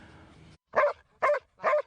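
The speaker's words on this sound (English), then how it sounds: "the happiest dog on two wheels" A dog that was shot in Ukraine and now moves on two wheels barks three times, evenly spaced, each short bark clear and close against a quiet background, after a faint murmur at the start.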